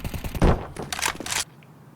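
Rapid automatic gunfire from Counter-Strike players trading sprays on the Overpass map, a dense burst of shots for about a second and a half before cutting off.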